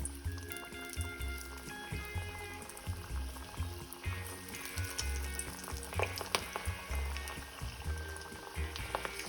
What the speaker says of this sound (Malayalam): ഞാനിങ്ങനെ വറുത്ത് കോരിക്കൊണ്ടിരിക്കുകയാണ് പരിപ്പ് വടകൾ